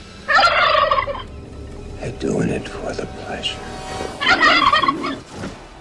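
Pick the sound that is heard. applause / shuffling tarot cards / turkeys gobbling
turkeys gobbling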